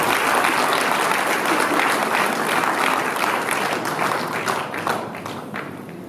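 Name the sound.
audience applause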